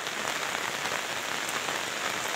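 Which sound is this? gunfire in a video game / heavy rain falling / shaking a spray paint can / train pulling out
heavy rain falling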